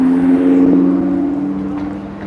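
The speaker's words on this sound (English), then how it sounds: "Oh, what was that, an Audi R8?" An Audi R8 with its top down passing on a road in South Korea, a loud close engine drone that peaks early and fades over a couple of seconds.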